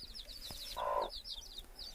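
A hen with six chicks only four or five days old makes a soft low cluck, while thin high peeps from the chicks repeat steadily in the background, all fairly faint and without talk.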